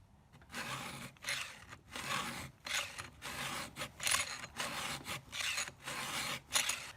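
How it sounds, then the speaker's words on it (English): Hand file sharpening a chainsaw chain, a series of rhythmic rasping strokes, roughly a dozen in quick succession with brief pauses between, close and fairly quiet, no talking. "we're gonna cut some wood tomorrow, and got to sharpen the chain"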